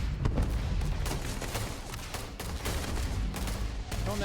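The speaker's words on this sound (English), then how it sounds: "Don't know who's shooting who right now" Sustained gunfire in the space-combat game Starfield crackles in dense, rapid bursts and thumps, loud and continuous across the whole stretch with no pause.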